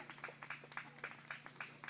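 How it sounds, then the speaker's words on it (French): Audience clapping at a Swiss sheepdog trial, soft and distant, a steady patter of hands with a quiet background hum. "On peut applaudir"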